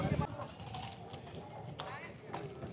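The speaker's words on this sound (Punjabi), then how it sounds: "ਚਲੋ ਵੀ ਘੋੜੇ ਦੌੜ ਕਰੋ ਯਾਰ ਭਜਾਓ ਘੋੜੇ ਤੁਸੀਂ" Horses gallop during the Dussehra Hola Mohalla procession at Hazur Sahib, with rapid, rhythmic hoofbeats clattering through a dense, noisy crowd while voices shout and talk close by.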